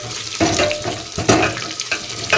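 Garlic, curry leaves and dried chilies sauté in hot oil for rasam, an uneven sizzle broken by a few sharp bursts as a spoon stirs the pan.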